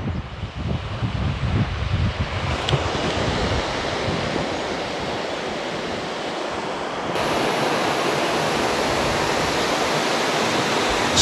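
Shiraki waterfall at Shiraoi, Hokkaido, roaring as a dense, continuous rush of falling water heard close by, steady and loud throughout with no talk.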